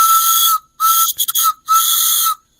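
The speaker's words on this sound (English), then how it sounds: "We got a little mini keychain train whistle." A small Polar Express keychain toy train whistle blown three times, loud and close, with a fluttering break in the middle blast; no talking.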